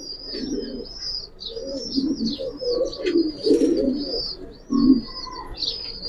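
Pigeons of the Silver Pankhi military breed at a pigeon seller's, with a pair cooing and chirping close by in repeated low throaty coos and thin calls, a brief wing flutter among them.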